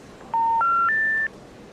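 Three rising telephone keypad tones in quick succession, each a clean steady beep of about a third of a second, heard alone against a quiet background as a number is dialed.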